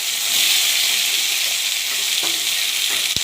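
Capsicum frying in a pan for chilli paneer, added after garlic and onion, with a steady close sizzle and a few scraping stirs of the spatula, with no one talking.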